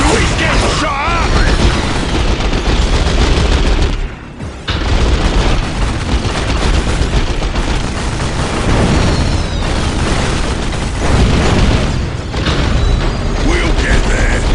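Dense, loud barrage of gunfire and booming explosions from an Orks versus Tau battle in Dawn of War Soulstorm, continuous clatter with a brief dip around four seconds, shouted voices mixed in.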